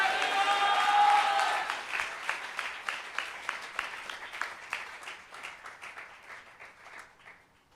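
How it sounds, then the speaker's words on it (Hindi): A church congregation claps loudly in praise, a dense burst of applause that thins into scattered rhythmic claps and fades over several seconds, with voices faintly underneath. "कोई ताली बजा के जोर से प्रभु को धन्यवाद दे"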